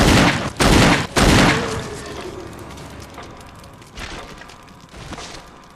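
Gunfire in the Resident Evil video game: three loud, close bursts in quick succession, followed by quieter rumbling and a couple of fainter shots.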